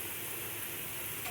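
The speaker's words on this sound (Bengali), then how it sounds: "এই যে পেঁয়াজ পেস্তাটা পুরো ভাজা হয়ে গেছে" Onion paste frying in oil for biryani gives off a steady, dense sizzle, close and even, with no voices.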